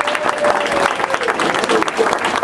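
Hearty round of applause from a crowd at a farewell celebration, honoring a polka musician and singer; dense, steady clapping fills the whole stretch with no pauses, loud and close, with a faint tonal hum running through the first half.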